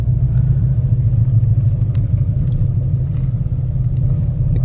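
A car with a 5.0 engine pulls away under throttle, a loud, close, steady low rumble heard from inside the cabin, with faint light clicks over it and no talking.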